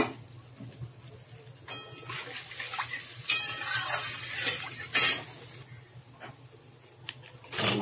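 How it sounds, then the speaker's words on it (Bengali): Water poured into spice masala frying in oil for a fish curry produces intermittent hissing bursts and stirring clinks against the pan, fairly quiet with gaps between. "জল দিয়ে দিচ্ছি মশলাতে।"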